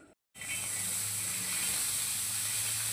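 Sliced onions sizzling on a hot tava while a Maharashtrian-style black chicken masala is being prepared; a steady, close, loud hiss and crackle that starts abruptly after a brief silence and continues evenly.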